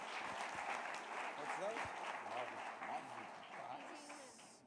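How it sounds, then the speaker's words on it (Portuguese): Church congregation applauding during a Sunday celebration service, dense steady clapping filling the room with some voices and shouts mixed in throughout. "Vamos aplaudir Cristo."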